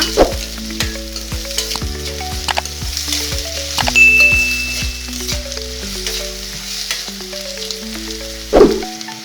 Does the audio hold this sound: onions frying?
yes